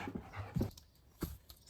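A dog panting close by in a camper van under construction, a few quick breathy bursts with short pauses between them, fairly faint.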